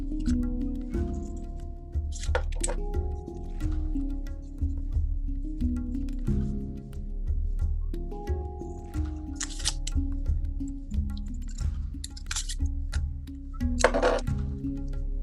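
A few short scissor snips cut paper triangles for a child's hand puppet, each crisp and close, spaced apart over a low steady hum of background music.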